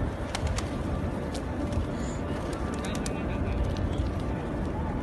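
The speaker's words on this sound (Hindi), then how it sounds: "हर नमाज से पहले सब जगह कबूतरों को दाना डाला जाता है।" Pigeons being fed grain in a courtyard in Madina before prayer: bird calls and cooing sit within a dense, steady crowd murmur, with voices talking throughout.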